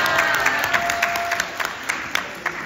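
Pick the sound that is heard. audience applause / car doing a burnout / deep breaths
audience applause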